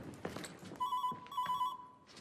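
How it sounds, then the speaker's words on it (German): A telephone rings in two electronic trilling bursts, moderately close, with footsteps and room noise around it. "Staller zückt sein Telefon"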